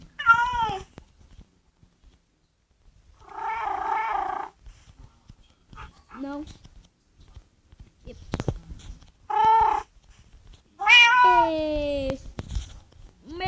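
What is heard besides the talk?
cats meowing in a video game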